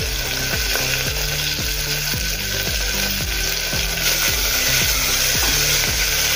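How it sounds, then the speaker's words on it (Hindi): Finely chopped onion and green chili frying in oil with cumin for chana masala, a loud close sizzle cut by a regular rhythm of spatula strokes scraping the pan. "अभी हम प्याज डालेंगे, बारीक कटा हुआ। और हरी मिर्च भी डाल देंगे।"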